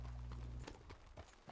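Horse hooves in Red Dead Redemption 2 clop in a quick, uneven run of soft thuds, with a low steady hum underneath at first, fairly faint and brief.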